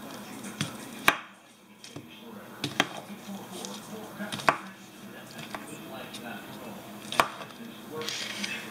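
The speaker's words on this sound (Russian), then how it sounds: "Режем крупно." A knife chops potatoes coarsely on a cutting board in irregular, crisp knocks, with faint talk and kitchen clatter in the background.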